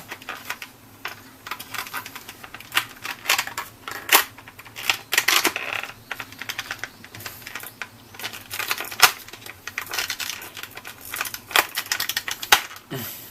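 Plastic and cardboard packaging around a Hasbro Darth Vader toy lightsaber is torn and crinkled up close, in busy irregular bursts of crackling and snapping with short pauses between them.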